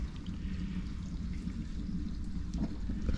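Steady rushing and gurgling of aquarium water siphoned through a hose connected to a sink during a saltwater reef tank water change, a continuous low wash with faint trickling, no talking.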